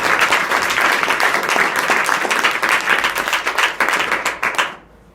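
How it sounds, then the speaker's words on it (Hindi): Students at a school adolescent education program clap for their school manager, a loud, dense burst of close applause that carries steadily, thins into a few scattered claps and then stops abruptly. "तो कम से कम आपके प्रबंधक जी के लिए ताली बजा दीजिए।"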